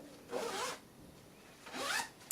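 A zipper on a sewn bag is pulled shut in two quick, close rasping strokes with a pause between them, heard alone and fairly loud.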